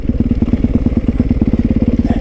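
A motorcycle engine thumps in a fast, even rhythm close by while riding over a rocky road, loud and steady with faint clattering underneath and no voices.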